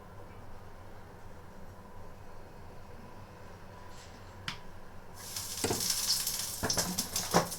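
Fish frying in hot cooking oil in a home kitchen, a faint steady sizzle at first that suddenly bursts into loud, crackling spatter with sharp pops near the end.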